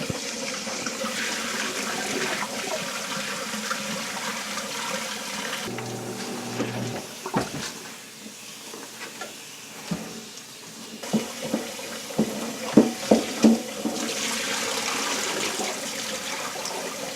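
Water runs steadily from a tap into a basin for several seconds while rinsing collard greens, briefly easing off midway, with a few splashes and clatters near the end.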